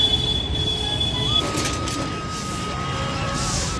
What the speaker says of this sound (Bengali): Prayagraj junction station.